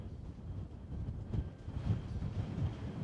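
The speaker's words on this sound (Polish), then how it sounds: "Wiatr się zrywa" Wind gusting over an open marsh reserve, a steady low rumble that swells in several buffeting surges, close to the microphone.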